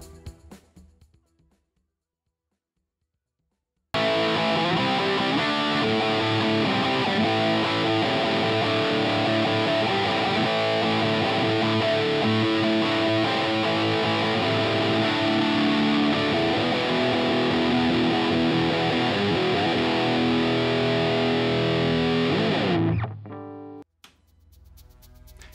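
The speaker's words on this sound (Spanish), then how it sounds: "con un Marshall, pues este es el preset del Helix, el Brit 2204, que suena así." Heavily distorted electric guitar played through a Marshall Brit 2204 amp model in a Line 6 Helix preset, a loud continuous riff lasting about twenty seconds after a short silence, then ending abruptly.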